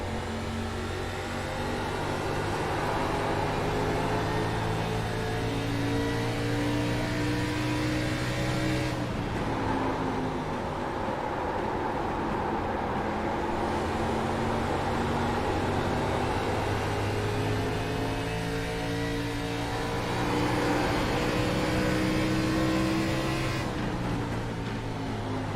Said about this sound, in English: It's an old NASCAR stock car